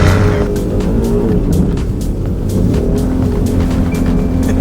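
An all-wheel-drive supercar does donuts, its engine roaring steadily and close, with a continuous rising and falling drone and scrubbing tire noise.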